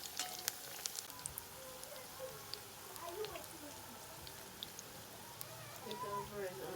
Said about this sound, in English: some nuggets are frying in the pot as well